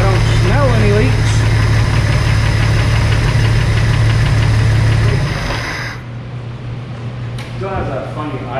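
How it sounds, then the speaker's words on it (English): A Jeep TJ engine idles roughly just after startup, a loud knocking, uneven idle with a steady low hum that eases slightly partway through, while someone talks over it. "Still has that funny idle to it"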